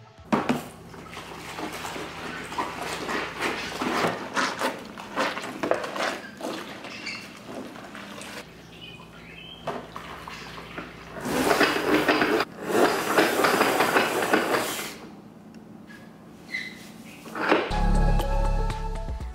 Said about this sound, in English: please enjoy the next couple of seconds of mopping ASMR